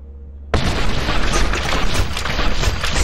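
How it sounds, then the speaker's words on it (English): A loud explosion bursts out suddenly in a video game, its broadband blast holding as a dense rumbling roar for several seconds after a quieter lead-in. "The explosion head explodes."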